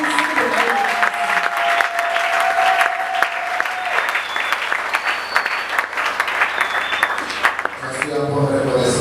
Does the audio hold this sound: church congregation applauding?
yes